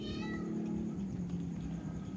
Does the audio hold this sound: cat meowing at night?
yes